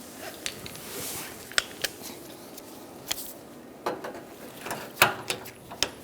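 A 12mm socket on a ratchet wrench removes the bottom bolts of the cooling fan assembly on a 2012–2017 Hyundai Accent, heard as close, irregular ratcheting clicks and metallic ticks spaced across the clip.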